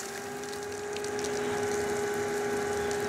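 A DAB Esybox Mini3 VSD water pump runs under load with a steady electric whine and several fixed tones over a wash of flowing water, loud and continuous.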